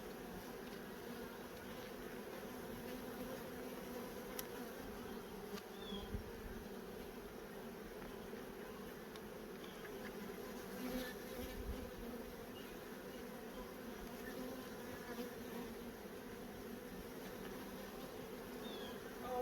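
Honey bees buzzing around an opened hive, a faint, steady drone of many insects with occasional closer passes, continuous throughout with no talking.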